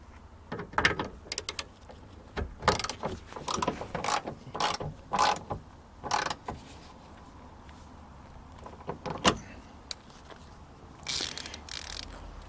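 Ratchet clicking as it tightens a 14mm bolt on a Honda Jazz tailgate, heard as bursts of quick ratcheting strokes close by that trail off into quieter pauses toward the end.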